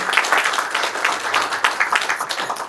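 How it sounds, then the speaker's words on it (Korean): An audience claps to welcome a professor coming up to lecture, brisk uneven applause with sharp individual claps that swell and dip over a few seconds. "나올 때 많은 박수로 환영합니다."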